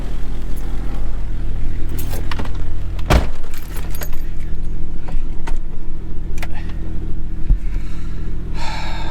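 A 1996 Jeep Grand Cherokee ZJ, just fitted with a new alternator, idles with a steady low engine hum close by, while keys jangle and a few clicks and bumps sound from inside the cabin.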